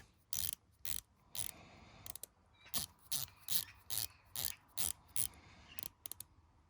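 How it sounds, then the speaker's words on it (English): A Tag Heuer Aquaracer dive watch bezel is turned in a series of about a dozen crisp, sharp clicks at an irregular pace, very close and isolated against near silence. "when you want to click it, it's quite easy to make it click"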